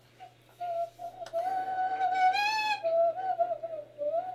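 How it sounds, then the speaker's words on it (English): A person whistles a wandering tune alone, clear and close, with short pauses between the notes. "Sorry, whistling."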